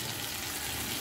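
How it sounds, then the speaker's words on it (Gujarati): Crushed garlic and chili tempering for moong dal sizzles in hot oil, a dense, continuous hiss and crackle at moderate volume with no pauses. "હવે આ વઘારને થોડું આપણે સોતે કરી લેવાનું."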